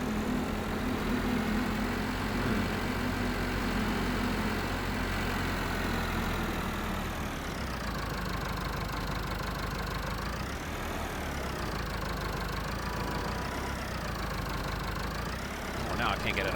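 A farm tractor engine idles and runs steadily in Farming Simulator while mowing grass and wrapping bales, a continuous mid-low drone whose pitch rises and falls several times as the machine works.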